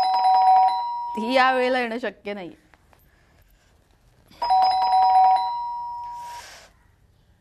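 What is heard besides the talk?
doorbell ringing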